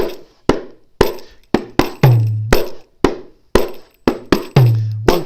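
Kanjira frame drum playing a rhythm pattern of eighth and sixteenth notes with gaps, close and loud, sharp slaps with ringing decays and a few deeper bent bass tones, played alone.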